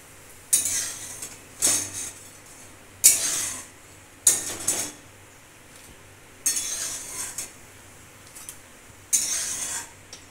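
Fried pumpkin-leaf and red lentil fritters are lifted out of a pan, with about eight separate metallic scrapes and clinks of a utensil against cookware, spaced a second or so apart over a quiet background.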